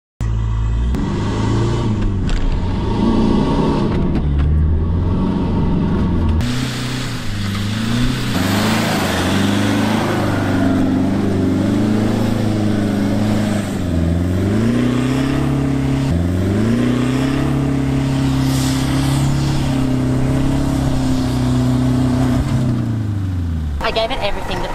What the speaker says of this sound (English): I gave it everything that the car had.